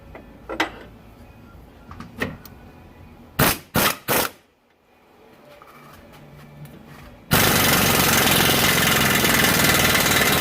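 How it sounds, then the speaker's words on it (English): Impact gun on a 2001 Chevy 1500 4x4, tightening the lock nut on a pitman arm, with several short close rattling bursts followed by a loud steady broadband roar to the end. "you just run this up on with an impact gun or a ratchet until this stops"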